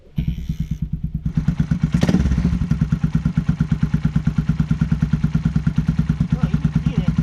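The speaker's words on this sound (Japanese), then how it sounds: "全然多分エンジンゆっくりでしょ。" Suzuki Grasstracker motorcycle engine idling slowly in neutral, a steady low thumping beat running close and loud throughout, with a brief louder rev or clunk partway through.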